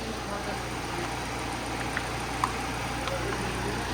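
A car engine idles in a project car being built up, a quiet, steady low rumble with a few faint clicks and taps over it.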